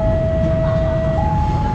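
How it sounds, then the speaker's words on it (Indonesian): A KRL electric commuter train rolling through Lempuyangan station, a loud steady rumble with a sustained whining tone that shifts in pitch, close and continuous throughout. "KRL lewat itu"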